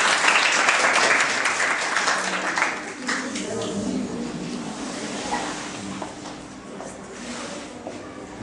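Clapping from an audience at a scout gathering in Ksar, Mauritania, strongest at the start and fading to a lighter patter, with a voice talking over the tail end.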